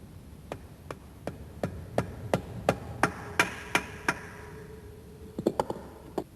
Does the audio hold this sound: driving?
yes